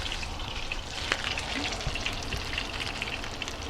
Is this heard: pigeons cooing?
no